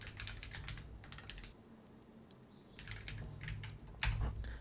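Bursts of typing on a computer keyboard while scripting in Roblox Studio, quick clustered key clicks with short pauses between runs, close and fairly quiet over a low hum, no talk.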